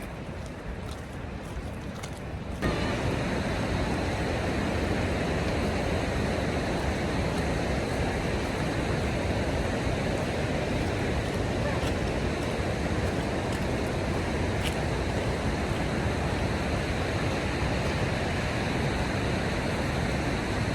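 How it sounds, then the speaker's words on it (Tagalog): Continuous rushing water, a dense even roar that kicks in after a quieter opening and holds steady throughout with no talking. "Naririnig niyo yung lagaslas ng tubig."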